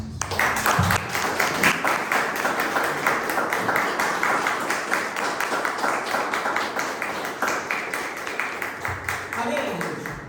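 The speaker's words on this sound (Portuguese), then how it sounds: "Vamos aplaudir Jesus." A church congregation claps steadily and rhythmically for several seconds during a worship service, with voices carrying underneath the dense, continuous applause.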